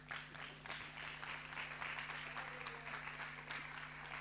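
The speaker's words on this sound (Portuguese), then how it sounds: "Vamos aplaudir Jesus por eles?" A church congregation applauds together, a steady wash of many hands clapping at moderate distance under a low, constant hum, with no voices standing out.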